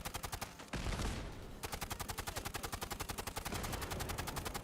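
Rapid automatic gunfire from the video game Fallout 76, a dense run of sharp, evenly spaced shots filling the whole stretch, with a heavier burst briefly swelling near the start and no talk over it.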